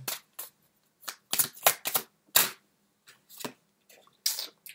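Tarot playing cards being shuffled in quick riffling bursts, about a dozen crisp rustling flurries separated by short silences, close and clear with no talk.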